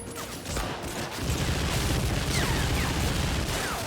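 Machine gun fire in the World War II shooter Medal of Honor Frontline, in a port level battling German forces: dense, continuous bursts of gunfire with a dull low rumble, steady and loud for the whole stretch.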